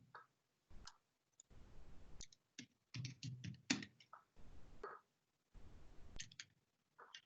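Typing on a computer keyboard while configuring a Cisco router, with quiet bursts of key clicks separated by short pauses, close and fairly faint.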